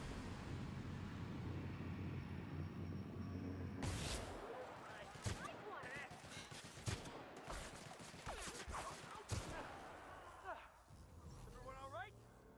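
Gunfire in The Outer Worlds, a string of sharp shots spread across the clip after a sudden loud burst, mixed with game noise and a talking voice.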